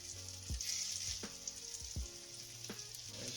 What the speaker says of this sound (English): That sizzle is a good sign.